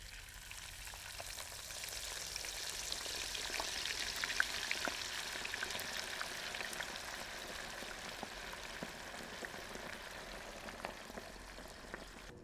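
Bacon-wrapped tater tots with jalapenos fry in hot oil, a steady soft sizzle and crackle with scattered pops, fairly quiet and continuous with no voices.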